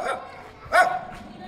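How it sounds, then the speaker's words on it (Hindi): Neighbours' dog barking: a few sharp barks at a moderate distance, one louder bark standing out amid quieter yips, with no talking. "ये हमारे नेबर्स का कुत्ता जो कि 5 साल से हम पे भौंक रहा है"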